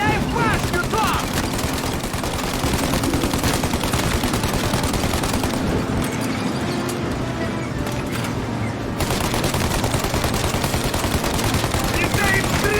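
Sustained machine-gun fire rattles continuously at a tower during a shootout in Mafia Definitive Edition, loud rapid bursts running almost the whole stretch with a brief lull midway and shouting voices over the gunfire.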